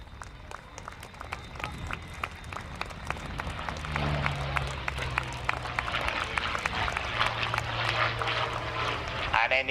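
A P-40 Kittyhawk from the Hangar 11 collection makes a fast pass at the Yeovilton Air Day, its engine roar swelling from a distance into a loud sustained drone, heard beneath an announcer and crowd noise.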